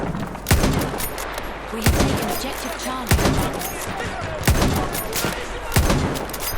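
Heavy gunshots from a WW1 1917 MG light machine gun in a video game fire at a steady rhythm, about one every second or so, booming and close, with chatter and clatter between shots.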